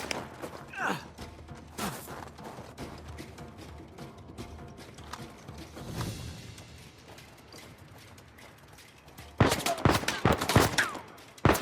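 Sniper and rifle fire during a firefight in Uncharted 4: A Thief's End, scattered sharp gunshots with clattering mechanical sounds and ambient noise, ending in a louder cluster of rapid shots.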